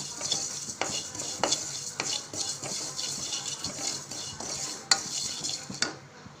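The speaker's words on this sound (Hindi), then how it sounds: "मसाला अच्छी तरह से भूनना पड़ेगा, चम्मच को हिला हिला के" A spoon stirs and scrapes masala as it roasts in a kadai for mango pickle, giving a steady run of close metallic clinks and scrapes over a faint sizzle, with no one talking.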